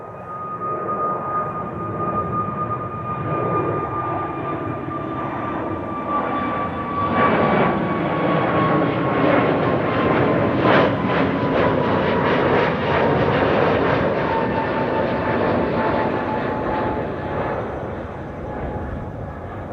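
An Aer Lingus airliner roars past at Amsterdam Schiphol Airport, a loud sustained jet engine rumble and whine that swells slightly mid-pass and holds steady for about twenty seconds outdoors, with no talking.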